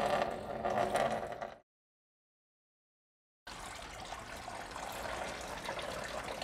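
Engine coolant drains from an Aston Martin DB9 as a steady liquid trickle and splash, breaking off into a silent gap before the flow sound resumes at an even, moderate level.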